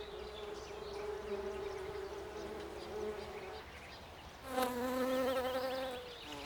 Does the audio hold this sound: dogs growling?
no